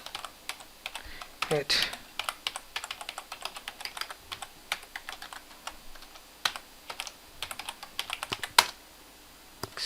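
A password is typed on a computer keyboard: quiet, close clicks come in quick irregular bursts, with a brief spoken word and a few louder taps.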